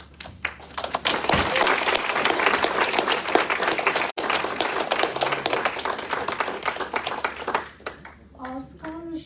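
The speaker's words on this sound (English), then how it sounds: "I would like to ask you one more round of applause for our tremendous speakers." Sustained applause from a large academic conference audience, dense and steady clapping near the listener for several seconds before it thins out, with a voice beginning to talk at the end.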